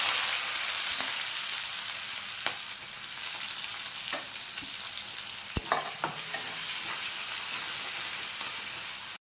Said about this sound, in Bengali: এই তেলে আমি গোটা মশলাটা দিয়ে দিচ্ছি পেঁয়াজ কুচিটা দিচ্ছি